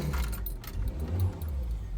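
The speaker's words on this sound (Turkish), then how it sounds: "Arkadaşlar arabamızı çalıştırıyoruz." Keys jingle briefly while a Renault 12 Toros car engine cranks and settles into a steady low idle close by.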